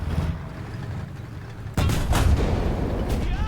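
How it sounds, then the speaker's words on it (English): Tank cannon fire in the War Thunder video game: one heavy, sudden boom about halfway through, followed by a sustained loud rumble over steady background noise, with no speech. "Shoot him, Jim."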